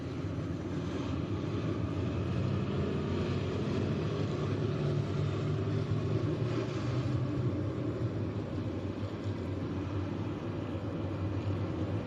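Pack of race cars circling a speedway under caution before a green-flag restart, a continuous distant engine roar and rumble that rises and falls gently with no talk.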